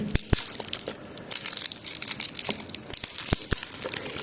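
A taped-shut LEGO Star Wars magazine package is pried open, giving irregular crinkling, crunching and tearing of plastic and paper with sharp cracks, close up and with no talk.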